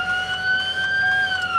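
A 2003 Ford E-450 ambulance siren sounds in wail mode, a loud, close electronic tone slowly sweeping upward in pitch, steady and alone.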